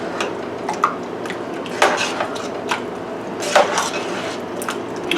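Heavy whipping cream is stirred into butternut squash soup in a pot, with scattered knocks and scrapes of a utensil against the pot over a low steady background.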